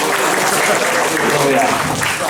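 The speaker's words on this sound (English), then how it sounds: "give him a round of applause, please" A student comedy gig audience gives a round of applause, a loud, continuous clatter of clapping with voices mixed in underneath.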